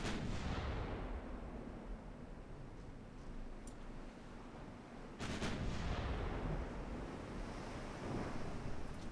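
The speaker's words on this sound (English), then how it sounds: "Please fire high explosive rounds at this angle." Naval gunfire from a warship with quadruple-gun turrets in the Ultimate Admiral Dreadnoughts video game, a heavy rumbling boom at about five seconds over a constant roar of sea and wind.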